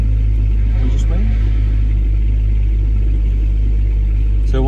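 A BMW with an N54 engine and a new twin plate organic clutch drives around an industrial estate, its engine rumbling loud and steady with a faint rise in revs near the end, heard from inside the car.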